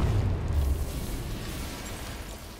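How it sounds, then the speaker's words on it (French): A deep explosion booms in Batman Arkham Knight, its heavy low rumble strongest at the start and slowly fading over a couple of seconds, with no voices over it. "Je dois être à une bonne distance avant que ça l'explose."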